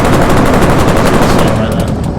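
Heavy gunfire rolls down a valley in the Arma 3 video game, with loud, rapid, continuous bursts of automatic fire crackling in quick succession throughout.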